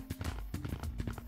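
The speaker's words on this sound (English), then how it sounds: "We can hear your footsteps." Footsteps in the VR video game Gorilla Tag, a quick run of hollow, thumping steps close by at an uneven galloping pace, with a faint tonal hum beneath.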